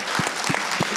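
Brief applause for guests at a meeting with a set designer in a cinema, a small audience clapping in a few distinct claps over a second, fairly close.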